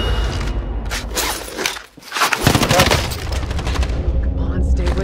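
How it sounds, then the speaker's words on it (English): Rapid gunfire bursts and booms from a multiplayer shooter video game, loud and dense across the clip with a brief dip, with players talking over the shooting. "It's not the only one that's shooting at us."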